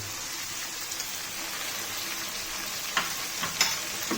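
Ginger sizzles in a pan for Peshawar chicken, a steady close frying crackle with a few sharper pops and stirring clicks near the end.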